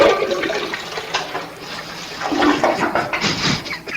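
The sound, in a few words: toilet flushing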